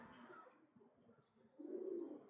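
Pigeons coo softly in a loft, then a fuller burst of cooing and wingbeats rises near the end as the startled flock lifts off.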